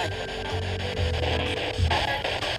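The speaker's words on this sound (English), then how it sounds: "As it scans through radio signals, it's giving a white noise" Radio scanner sweeping through signals, giving a steady wash of white-noise static with a low hum underneath, fairly loud and continuous, with slight swells near the end.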